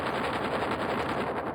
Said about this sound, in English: So I took a perc and again distorting it a lot, and I'm using the grain delay and lots of delay here